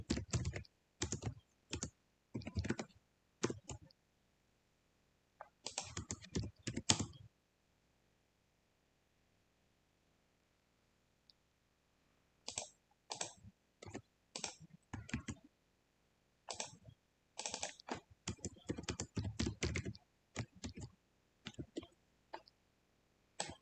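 Code is typed on a computer keyboard in quick, faint bursts of clicking keystrokes. The bursts are broken by pauses, including a long silent stretch in the middle.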